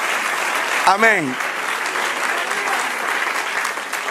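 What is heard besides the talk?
church congregation applauding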